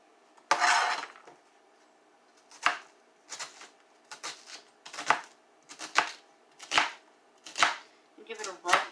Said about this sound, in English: Cut the onion in half.